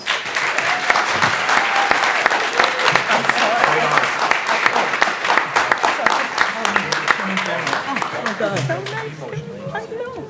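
Loud, dense applause from a conference audience for a panel of secretaries of state, with rapid overlapping claps close by and crowd chatter and voices mixing in as it carries on.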